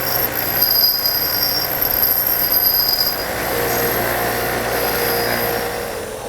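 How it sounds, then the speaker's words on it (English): A bench grinder rounds off the end of a metal stud from a Fox Body fuel tank, giving a loud, steady, harsh grinding hiss with a high metallic whine that continues throughout. "To the bench grinder. I'm going to round off this end so the nut goes on easier."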